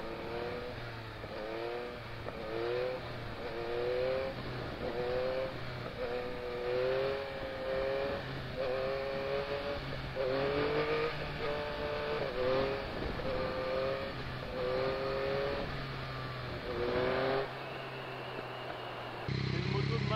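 A broken-in Yamaha MT-09 motorcycle engine rises and falls in repeated gentle throttle pulls, a rhythmic mid-level growl heard from the rider's position with wind noise and someone talking over it.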